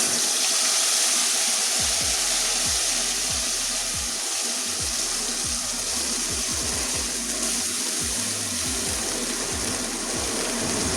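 A paste of tomato, green chili and mustard fries in hot oil, giving a loud, steady broadband sizzle with low crackles throughout and no talk.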